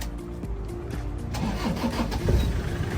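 A 2003 Toyota Tiger 2.5 D4D turbo diesel pickup cranks and fires up, the starter whirring briefly before the engine catches into a rough, clattering diesel idle, close and moderately loud.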